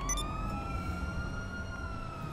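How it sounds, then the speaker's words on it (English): An ambulance siren drifts past a house, holding a steady wailing tone at a moderate distance. It sounds alone against a quiet background. "I had an actual real ambulance going past my house"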